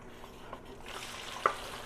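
Hamburger meat with bell peppers, red peppers and onions sizzles in a pan as it is stirred, a faint frying hiss with soft scraping and one brief clink.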